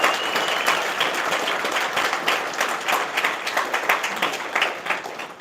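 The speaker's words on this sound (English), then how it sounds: "So one more round of applause for the villages, please." Conference audience applauding at the closing session of DistrictCon 2025, a dense, steady wash of many hands clapping close and loud throughout, with scattered sharper individual claps standing out.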